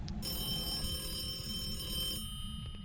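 A telephone rings with a steady, sustained electronic tone that carries on for nearly three seconds over a low, constant rumble, then cuts off near the end; no one speaks.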